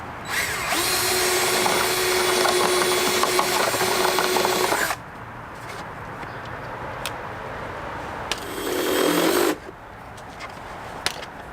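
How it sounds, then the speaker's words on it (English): A power drill whirs loudly for about four seconds, widening a hole for a grommet while fitting a light bar on a Kawasaki Versys X 300, then falls quiet amid small handling noises before a second shorter burst. "what I've done is drilled in here a little bit wider for this grommet"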